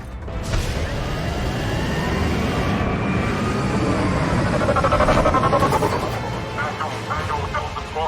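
A shuttle in the Mass Effect 3 video game flies in with a sustained whooshing engine roar and whining tones, with voices heard over the approach.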